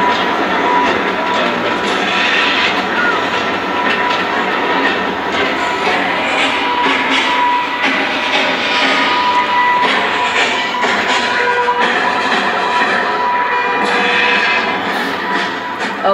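Continuous rumble and rattle of a moving studio tour tram at Universal Studios Hollywood, steady and loud throughout, with clattering over the track.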